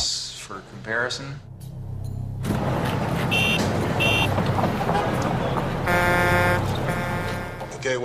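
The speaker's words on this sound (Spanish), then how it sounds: "Ahora el ruido de tráfico para compararlo." Loud, steady street traffic roar with passing vehicles and a burst of car horns honking, dense and continuous throughout.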